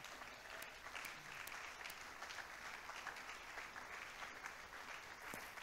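A church congregation applauds steadily, a dense wash of clapping hands sustained throughout, heard somewhat distant and soft, with a few sharper individual claps standing out.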